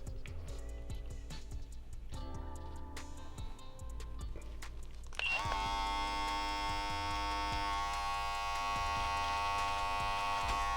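An electric beard trimmer starts about halfway through and runs with a close, steady high buzz while it trims a mustache; before it starts there are only faint clicks and handling sounds.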